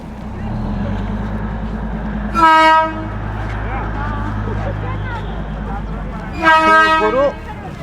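The Darjeeling toy train sounds two loud horn blasts, the first short and the second longer, over a low rumbling engine drone near Ghum railway station.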